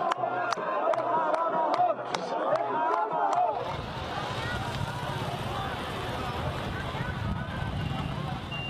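A crowd outside Hosni Mubarak's murder trial erupts in joyful cheering, a dense roar of many voices and shouts that swells and carries steadily, following several sharp knocks and raised voices nearby.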